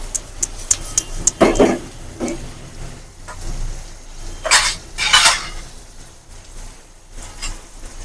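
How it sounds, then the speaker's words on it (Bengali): A wooden stick gently stirs coral fish curry in a metal wok, giving a few bursts of scraping and clattering against the pan between quieter stretches of simmering, with no talking. "এরকম কড়াইতে এরকম করে হালকা ভাবে নাড়তে হবে"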